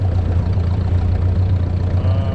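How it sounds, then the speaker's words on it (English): A farm tractor idles steadily in a barn while a wagon is hitched to its front, a constant low rumble with a loud, even hum throughout and no voices. "I do the hitch the wagon onto the front of the tractor routine"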